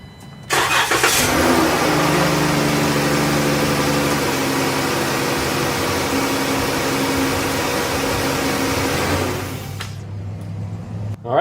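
A 3.6 liter engine in a 2011-2016 Chrysler Town and Country minivan cranks briefly and catches, then runs at a loud, steady idle for about nine seconds before shutting off, close by.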